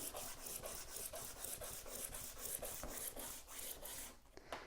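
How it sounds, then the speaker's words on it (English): Chalk stick rubbed back and forth across a chalkboard, a steady rhythmic scraping with about a dozen even strokes, close and moderately quiet, ending in a brief pause. "take a piece of chalk and rub it on your chalkboard like so"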